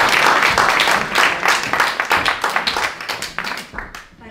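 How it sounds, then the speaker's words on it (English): An audience claps for a minister being introduced at an evening event, a loud burst of many hands that thins into scattered, slowing claps before fading out. "if you want to give another clap, for our Minister for Communities, Deirdre H"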